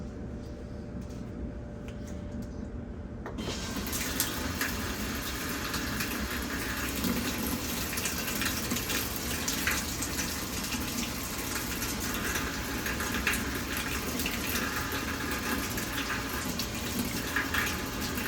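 Hot water gushes steadily into a newly installed washing machine on its heavy-duty setting, a sudden start after a quiet few seconds, then a loud continuous rushing flow.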